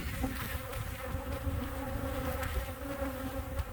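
Steady, dense buzzing of many Carniolan honey bees at close range at the hive, a continuous droning hum with no pauses and no voices.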